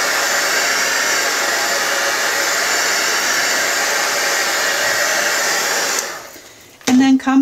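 Heat tool blowing steadily and loudly over a paint wash to heat-set it, a continuous broadband roar for about six seconds before cutting off, followed by a brief tonal whine as it restarts near the end.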